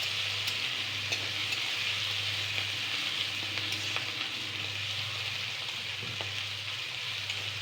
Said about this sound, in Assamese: এয়া পেঁয়াজ নহৰু ভজা হ'ল।